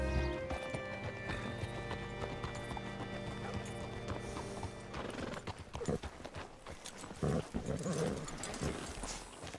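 Horse hooves clip-clop in Red Dead Redemption 2, steady at first, then uneven and louder with scattered thumps and a whinny near the end.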